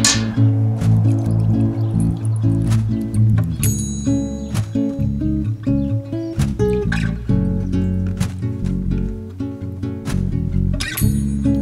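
Molten silver is poured into water chilled with dry ice, making repeated wet splats, drips and squishy hisses at varied intervals, close and fairly loud, alongside steady tonal sounds.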